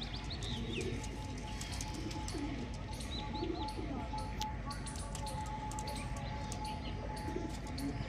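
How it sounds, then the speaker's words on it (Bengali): Pigeons cooing softly in a loft, with chirps and rustling over a constant low hum, fairly distant and continuous. "তো চলো সব কটা পায়রা একসঙ্গে দেখিয়ে দিই তোমাদেরকে।"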